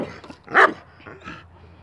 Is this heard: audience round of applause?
no